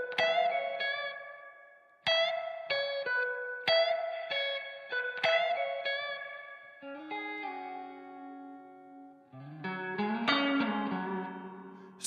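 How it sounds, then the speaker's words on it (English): Synthesized plucked tones ring out with heavy reverb and echo tails from a Space Echo Machine Outer Space 2 app on iOS, repeated notes that smear and sustain into washy, spacious decays. "now this bass and treble should affect our reverb"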